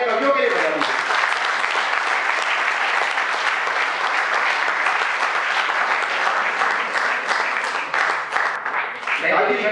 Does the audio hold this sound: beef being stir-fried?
no